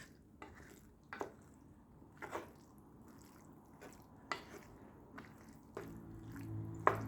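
Zucchini and eggplant being mixed in a pan or bowl, with scattered soft clinks of a utensil and faint squishy stirring at an unhurried pace. Quiet throughout, with a louder clink near the end.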